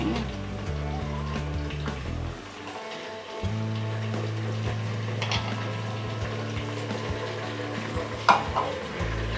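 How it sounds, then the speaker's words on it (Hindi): Mutton pieces frying with browned onions in a pot for haleem, a continuous close sizzle and bubbling with occasional stirring knocks, set against a low steady hum, with no one speaking. "इसे 2 मिनट भून लेंगे"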